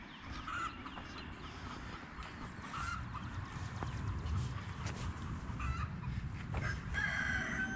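Chickens cluck and squawk nearby in a busy yard with steady background noise, and sharper calls break through now and then.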